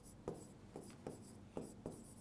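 A pen writing out a math answer on paper, producing soft, faint scratchy strokes with about five light taps in an uneven rhythm, close by and quiet.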